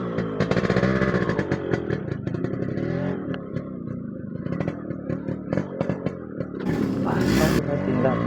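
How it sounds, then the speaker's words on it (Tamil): A Yamaha RX100 two-stroke motorcycle idling and revving in the street, its engine crackling and rising in loud surges near the listener, with faint voices in the background. "RX தாங்க சவுண்டு."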